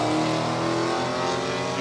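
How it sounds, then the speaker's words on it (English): A drag race car launches down the strip at the raceway, its engine a loud, dense, continuous roar that holds steady and close throughout. "Dale Caruana beside him, gets the Pontiac"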